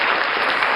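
Steady applause from a crowd, dense clapping filling the whole moment without pause.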